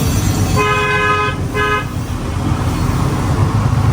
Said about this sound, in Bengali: আমরা বিসমিল্লা বলে শনিবারের উদ্দেশ্যে রওনা দিয়ে দিলাম ঢাকার বাসে করে